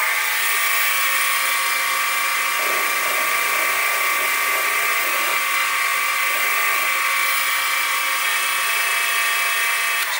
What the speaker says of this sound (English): Now I'm going to use a centre drill and then a drill to enable me to tap